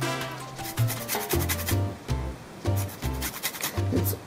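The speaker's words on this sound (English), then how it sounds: "And I want all the zest of the lime," One lime being zested on a grater for a berry summer drink: quick rasping strokes in an uneven rhythm, close and fairly quiet.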